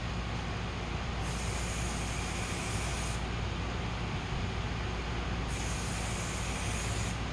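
Aerosol spray can sprays clear coat onto a dim headlight, a loud continuous hiss broken by short pauses between passes, close and alone.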